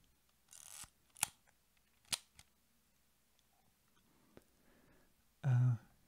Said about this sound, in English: This camera also has a very satisfying sound when you cock the shutter.